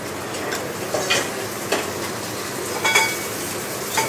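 Bok choy with chili and sesame oil wilting in a hot pan, a soft steady sizzle with a few light stirring scrapes and clinks of utensils against the pan.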